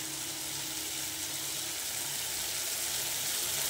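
Cumin, chili and turmeric spices frying in a pan for a fish curry, a steady soft hiss and sizzle that carries on evenly at low volume with no talking.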